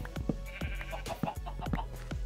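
Sheep in Minecraft bleat in a rapid string of short, nasal baa calls, several overlapping in quick succession, close and clear with no speech over them.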